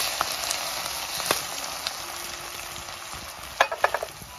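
Green chillies and garlic crackle and sizzle in very hot oil in a pan, a steady close frying hiss with scattered pops and a short burst of sharper spattering near the end.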